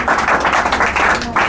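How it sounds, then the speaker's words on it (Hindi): Classroom of students clapping loudly together in quick bursts, close and energetic, with brief pauses between rounds. "इसके नाम पे जोरदार ताली बजाओ"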